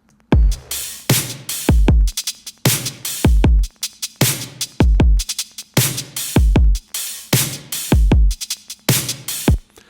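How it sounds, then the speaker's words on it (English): The drum part from a song, played by itself: a loud, steady groove of punchy kick and snare hits repeating in a simple pattern, with no other instruments or voices. "that drum part by itself sounds like this"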